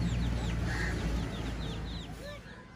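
Chickens at a village home give a few soft clucks amid steady background chirping from birds.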